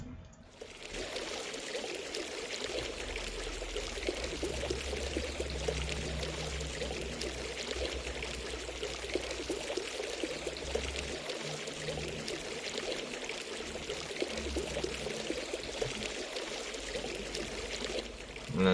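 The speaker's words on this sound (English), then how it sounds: "I kind of have like a little miniature waterfall coming out of his hand" Water pours from a magical water rune held in a character's hand in the video game Runes of Tyra Nor, a steady, continuous splashing stream like a small waterfall that runs unbroken at an even level throughout.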